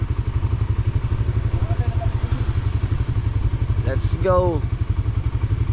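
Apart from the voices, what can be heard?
motorcycle engines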